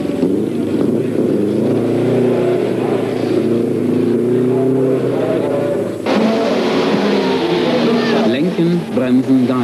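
Rally car engine at the 1984 Sachsenring rally, part of a socialist-countries cup stage, revving hard and loud, dropping off under braking, then surging again as it accelerates with a rough, throaty drone, while a narrator talks over it.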